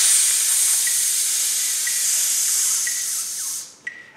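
During a brass breathing exercise, a long, steady, bright hiss of breath pushed through the teeth sizzles for nearly four seconds, broken by a few faint count clicks, then cuts off with a brief final puff.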